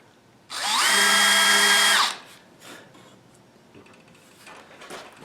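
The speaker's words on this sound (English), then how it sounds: "So we got to hold our drill at 90 degrees." A power drill boring a pilot hole for a skull mount plaque whirs loudly and steadily for about a second and a half, then stops, leaving faint handling noises and quiet clicks.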